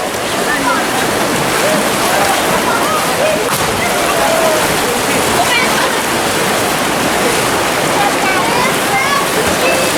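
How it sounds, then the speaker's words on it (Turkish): Someone swims in the sea off the Antalya cliffs, a dense continuous wash of splashing and churning water that stays loud and close, with voices talking over it. "Bakın deniz yüzmeye başladı."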